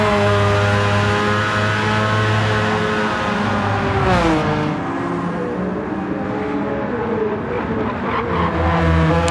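Gran Turismo 7 touring race cars, a Porsche among them, battle on the St Croix circuit. Engines roar steadily and close throughout, with rising and falling revs through gear changes and a brief dip near the middle.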